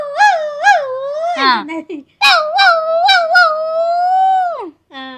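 A person imitating a dog howling, several rising and falling wavering howls and whimpering yips voiced close up, ending with one long drawn-out wail.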